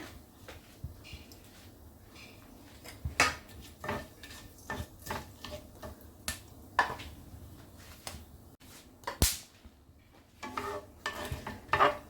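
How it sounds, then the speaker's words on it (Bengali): Bay leaves and whole garam masala fry in hot oil with a quiet, low sizzle, broken by repeated close stirring scrapes and sharp clinks of a utensil against the pan. "ফোড়নে আমি তেজপাতা আর গোটা গরম মশলা দিয়ে দিচ্ছি"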